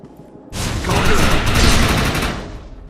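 An overcharged weapon fires at a projection in the Defiance video game, a sudden loud burst of rapid, dense gunfire that roars continuously for about two seconds, then fades.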